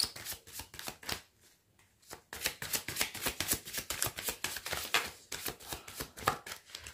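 A tarot deck being shuffled by hand: rapid, close riffles and card slaps come in quick bursts, with a short pause near the second mark before the shuffling resumes in a dense, steady rhythm.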